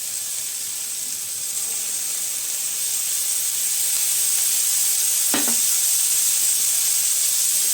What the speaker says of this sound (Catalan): Els hem de fregir per les dues bandes.